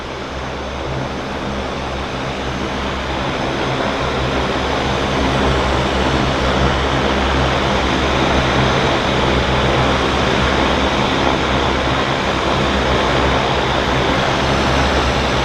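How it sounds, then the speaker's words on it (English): Steady, loud droning of a Caravan propeller airplane engine at Vancouver Harbour, constant and close, with no voices over it. "The Caravan is a noisy airplane, by the way."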